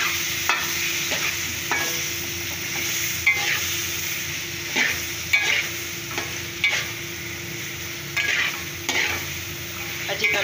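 Spinach frying in a pan while being stirred, a continuous sizzle broken by repeated scraping and clinking strokes of a spoon at irregular intervals, close and clear with no talk.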